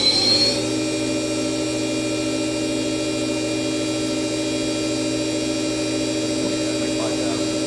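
A CNC machine's 40 taper spindle whines steadily as it runs at rising RPM, a loud sustained tonal hum with a brief louder surge at the start and no talk over it.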